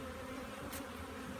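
Honeybees at an opened hive, a dense, steady, close buzzing drone that holds at an even loudness throughout, with one brief brighter pass of a nearby bee.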